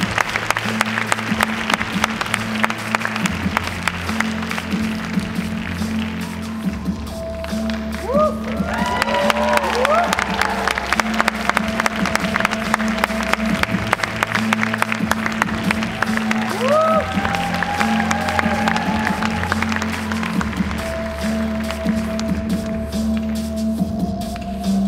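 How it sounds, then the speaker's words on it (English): An audience claps through a fashion-show walk while rhythmic music with a steady low beat plays loudly over it. Cheering swells at times, and crowd voices murmur throughout. "Give them another round of applause"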